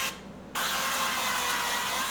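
Cooking spray hisses from a can onto food on a tray before it goes into the oven: one sharp onset, then a steady close hiss lasting well over a second, with no talk.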